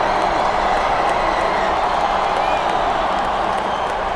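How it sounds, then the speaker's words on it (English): A dense arena crowd in the WWE SmackDown vs Raw 2007 wrestling video game cheers and roars steadily and loudly throughout, with clapping mixed in. "Oh, you're cheering for him."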